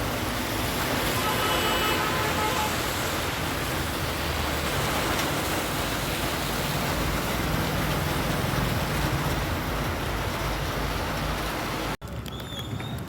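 Heavy thunderstorm rain roars in a dense, unbroken wash of noise, loud and steady throughout, with a brief dropout near the end.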